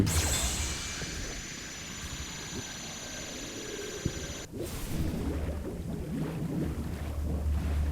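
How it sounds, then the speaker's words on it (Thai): A boat spawns and sails in the video game Grand Piece Online, with a continuous rush of water and wind-like ocean noise that shifts and swells partway through. "ขั้นตอนต่อไปคือการสปอนเรือนะครับ"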